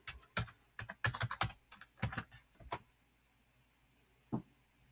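A password is keyed in on the keypad of a Eurotherm process controller (EPC3000, nanodac or 3500 series): a quick run of close, crisp button clicks, a pause, then one last press.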